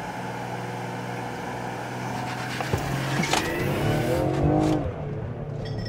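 A Ford Explorer ST on full boost with anti-lag launch control revs up and then launches hard, a loud rising roar with brief tire noise, heard alone.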